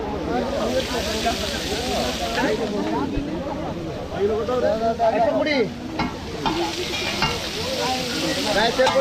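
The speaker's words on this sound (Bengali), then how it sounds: "কাঁকড়া ভাজতে দিলাম না ভাজছে ওই যে" Crabs frying in a pan give off a loud, continuous sizzle and hiss that runs the whole time, while voices talk and call over it.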